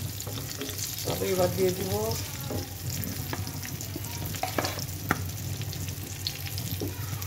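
Spiced eggplant slices coated in turmeric, salt and mustard oil sizzle and crackle steadily in a pan, with occasional stirring clicks and a brief spoken line over the frying.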